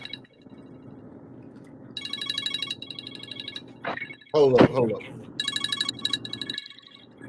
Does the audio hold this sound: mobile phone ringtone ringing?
yes